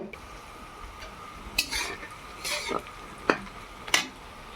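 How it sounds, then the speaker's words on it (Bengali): Onions sizzle steadily in a hot pan as they fry for biryani on a balcony, with a handful of sharp stirring scrapes and utensil clinks breaking through the constant frying hiss. "পেঁয়াজ বেরেস্তা হবে, পেঁয়াজ ভাজা হচ্ছে"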